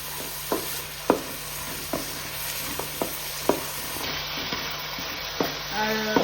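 Chopped onions and shallots for a chicken biryani fry steadily in a pan with a soft, continuous sizzle, broken by regular sharp scrapes and taps of a spoon stirring about once a second.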